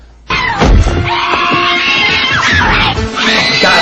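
A woman screams loudly and continuously in a scene from the action film Last Action Hero, her shrill cry starting abruptly and holding for several seconds over a busy background of crashes and commotion.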